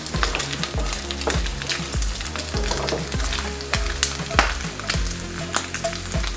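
Bacon sizzling and crackling steadily in a hot pan, with occasional stirring scrapes, close and fairly loud with no talking.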